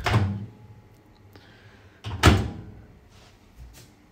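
Motel room drawers being opened, two wooden thunks and scrapes about two seconds apart, close and moderately loud, with faint rattles between.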